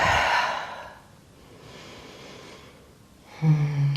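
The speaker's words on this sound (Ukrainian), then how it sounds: "Видих." A deep exhale during breathing meditation, a soft airy breath out, quiet and close, followed by a brief pause and then a voice starting to speak.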